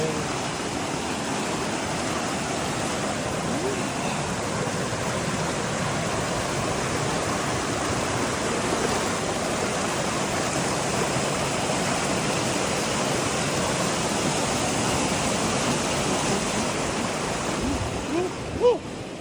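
A mountain creek on the Pacific Crest Trail rushes in a loud, unbroken roar at a crossing, steady throughout with a brief bump near the end.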